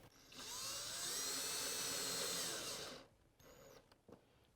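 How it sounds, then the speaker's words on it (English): A power drill whines loudly for about three seconds as it drives a self-tapping screw into a door panel on a Kawasaki KRX4 1000, then stops; a few quieter clicks and short whirs follow. "These are self-tappers, so they just drill right in."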